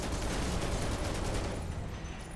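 Sustained automatic gunfire in Final Fantasy VII Remake, aimed at an object in a Shinra underground lab. A dense, loud, continuous volley that tapers slightly near the end, with no talk over it.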